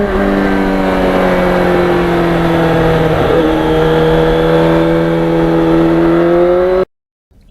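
A 1991 Yamaha FZR 1000cc motorcycle engine on an open road, holding a loud, steady high-pitched drone with a slight dip in pitch midway before it cuts off abruptly near the end.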